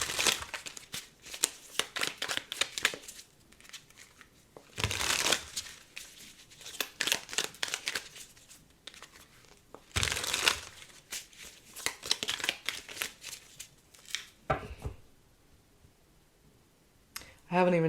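Tarot cards being shuffled by hand in quick riffling bursts with soft clicks and papery rustles, breaking off and starting again, while a voice talks quietly in between.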